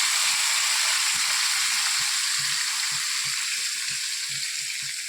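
Marinated chicken leg pieces fry in ghee in a kadai, giving a steady close sizzle and hiss with soft stirring knocks now and then, and no one speaking.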